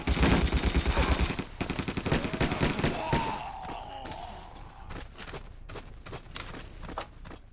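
Rapid gunfire from a Battlefield 1942 battle in Berlin, with dense bursts of shots in the first few seconds that thin into scattered pops over a steady din of distant combat, the pistol shots mixed among the rest.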